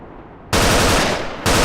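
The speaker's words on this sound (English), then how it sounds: "Fire off some Kalashnikov bullets to warn them, and begin the attack" A Kalashnikov rifle fires in the video game Battlefield Iraq, a loud close burst of automatic gunfire that starts abruptly after a quiet moment, briefly dips and then resumes.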